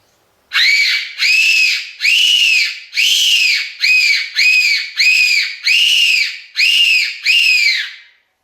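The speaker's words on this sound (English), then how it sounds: "main thing with the Tenterfield whistle, tip of the tongue, and then fit it in with your hands just on the side." A Tenterfield fox whistle is blown through cupped hands: ten loud, shrill, wavering calls, each about half a second long, sounding alone in quick, even succession.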